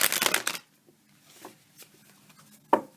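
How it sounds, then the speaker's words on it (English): Tarot cards being shuffled, a dense papery riffle for about half a second, followed by quieter slides and soft taps as single cards are drawn, with one sharper snap near the end. "I'm going to go ahead and pull the entire tarot portion of the spread"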